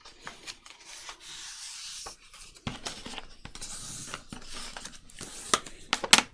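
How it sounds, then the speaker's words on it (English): Paper being folded and creased by hand for a junk journal writing set, giving soft rubbing and scraping strokes with sharper crinkles toward the end. It is quiet and close, with no talk. "let's fold this over again"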